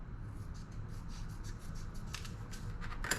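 Small scissors snip through vinyl window-mask film on a clear polycarbonate RC car body, giving a few soft close crisp cuts among faint rustling, ending in a sharper snip.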